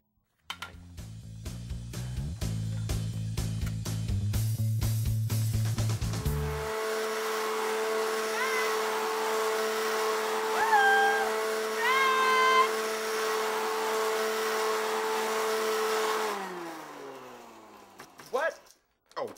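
A vacuum cleaner runs loudly and strains, its steady whine rising and wavering, then cutting out near the end. Clunking noises come before it, and people talk over it.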